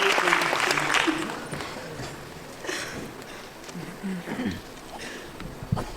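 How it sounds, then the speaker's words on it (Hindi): Audience applause at an anniversary function in India, a broad wash of clapping that swells at the start and then thins out, with speech over it. "जोरदार तालियां राजेश कुमार मोदी जी के लिए।"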